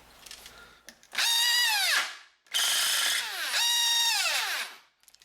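A Dewalt DWD110 variable speed drill whines up to speed twice, each run holding a loud high-pitched motor tone before winding down, with short pauses between; the drill has an internal slipping fault.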